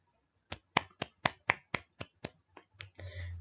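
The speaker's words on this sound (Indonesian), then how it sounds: "Beri tepuk tangan dulu kepada Mas Dani dan Mas Galang yang telah menjawab." Students in a religious education class clapping for classmates, a series of about ten sharp, evenly spaced claps, fairly close and clean, ending in a brief rustle.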